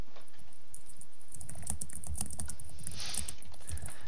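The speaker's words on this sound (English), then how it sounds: "I'm typing ASCII hearts back to him" Quick typing on a computer keyboard, a patter of light clicks that grows denser and closer after a quiet start, with a steady high electronic whine behind it and no voice.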